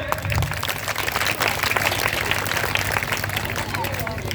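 Applause from a village crowd at an Ambedkar Jayanti celebration, as a former village head is welcomed to speak, steady dense clapping mixed with crowd babble throughout.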